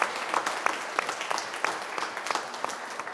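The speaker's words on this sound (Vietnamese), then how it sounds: "Chúng ta làm một tràng pháo tay chào mừng," A church congregation gives a brief burst of applause during a Vietnamese Corpus Christi Mass, steady clapping from many hands at moderate volume, with no talking over it.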